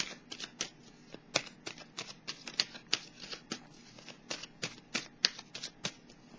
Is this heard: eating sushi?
no